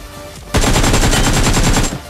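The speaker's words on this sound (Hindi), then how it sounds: "लेफ्ट से मुझे फायरिंग का साउंड आता है" Rapid automatic gunfire in the battle royale game BGMI bursts in suddenly and rattles loudly for over a second as a dense string of close shots, then cuts off.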